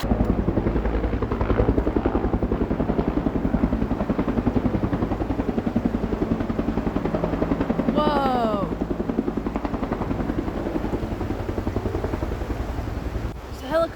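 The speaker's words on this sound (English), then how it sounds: "There's a helicopter like right at the dam." A helicopter's steady thudding rotor roars loudly and continuously overhead near a dam in the Adirondack mountains, with one voice briefly exclaiming partway through.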